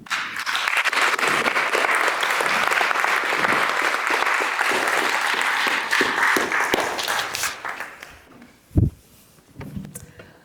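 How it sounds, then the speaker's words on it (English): Sustained audience applause for a panel at a democracy discussion event in Oxford, loud and dense for about eight seconds before fading into a few scattered claps and a brief thump. "I think they all deserve another round of applause"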